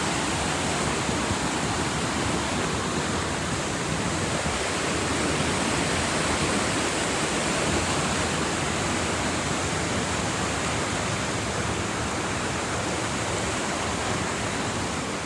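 Water pours over rocks at a waterfall in Old Mill Park, Roswell, Georgia, making an even, unbroken rushing roar, close and continuous, with no voices or other sounds breaking through.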